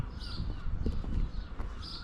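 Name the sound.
young seagull calling in Cornish suburbia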